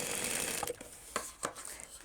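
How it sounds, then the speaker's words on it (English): A sewing machine basting the side seams of a tote bag with a recessed zip, running in a quiet mechanical whir at first, then stopping for a few separate clicks and handling noises. "Now I'm going to baste down each side of that"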